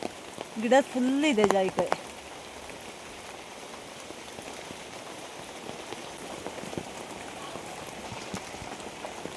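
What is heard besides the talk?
heavy rain falling in the plantation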